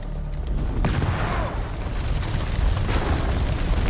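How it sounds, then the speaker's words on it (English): A grenade blast in the war game House of Ashes sets off a sustained, loud, rumbling roar that rolls on for several seconds with debris-like crackle and no clear single sharp crack. "Grenade!"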